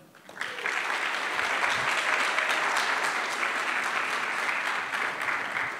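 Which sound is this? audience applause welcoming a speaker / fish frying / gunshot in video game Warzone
audience applause welcoming a speaker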